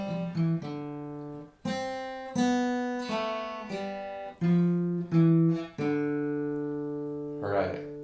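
Clean electric guitar picks out part of a lick, a short melodic phrase of sustained single notes and a small walk-down, played alone and close.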